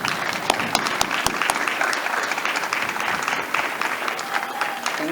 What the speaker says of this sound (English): Let's give her a nice round of applause.